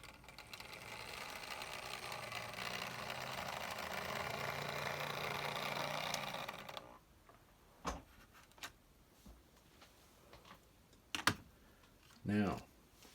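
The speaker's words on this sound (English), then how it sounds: "This one again runs not too bad. A little noisy, but again still pretty smooth, especially for a locomotive of this age." An aging Atlas RS-3 HO scale model locomotive runs with a steady, slightly noisy motor whir for about seven seconds, then cuts out, leaving scattered faint clicks and handling sounds.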